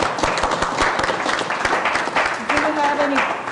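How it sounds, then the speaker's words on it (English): An audience at a board meeting gives a round of applause, a continuous wash of clapping with voices talking over it. "we have a round of applause"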